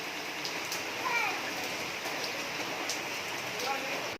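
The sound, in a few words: heavy rain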